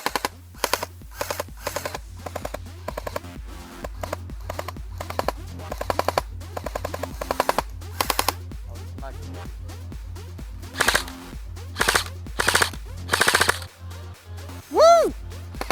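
Airsoft guns fire during a base raid, with rapid regular bursts of sharp cracks close by, later broken by a few louder isolated shots and brief voices.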